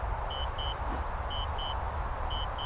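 DJI Spark drone controller beeping during return home: paired short electronic beeps repeating about once per second over steady outdoor background noise.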